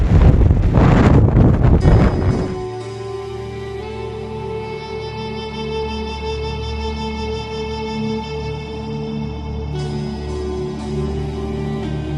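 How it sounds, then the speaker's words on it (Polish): A strong winter gale in Turkey during a bicycle trip, with loud rushing buffets of wind for the first couple of seconds, then a steadier, quieter tonal drone with lighter gusts. "Jaka wichura!"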